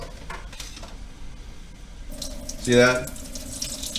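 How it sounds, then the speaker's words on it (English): Liquid drains from a can through fingers for a hobo stew, a short close splash and trickle following a man's brief remark, with light water noise around it. "So I'm just going to use my fingers to drain this out."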